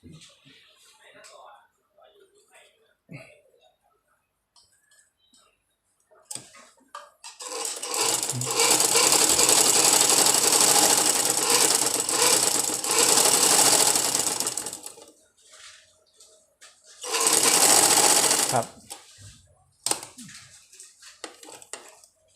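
A small domestic sewing machine runs in a loud whirring burst for several seconds as its pedal is pressed, stops, then runs again briefly, with someone talking in the quiet gaps.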